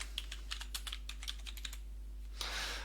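Fingers type a poll title on a computer keyboard in a steady run of light, close key taps, ending with a brief soft rush of noise.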